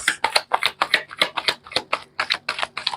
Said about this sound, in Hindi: ये लास्ट शफल है।